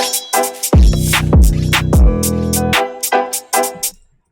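Drill beat with a sharp sword-swish effect and bongo hits over deep sliding 808 bass, punchy and loud with choppy rhythmic bursts before cutting off.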